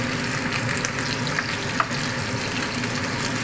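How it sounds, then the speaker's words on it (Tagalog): Steady, close sizzling and crackling of chicken pieces frying in a pan, with no voices, continuous throughout. "Prito muna natin siya konti."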